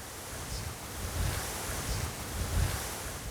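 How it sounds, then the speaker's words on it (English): Strong wind roars steadily into the microphone with gusting surges, a broad rushing noise with no voices. "This wind's perfect. You know, it's coming right at us and it's coming hard."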